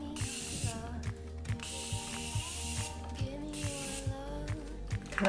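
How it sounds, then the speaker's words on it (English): A makeup setting spray bottle is pumped in repeated clicking bursts, each release a long hissing continuous mist, three sprays in a row, close and fairly quiet. "Another one that I got is actually the setting spray."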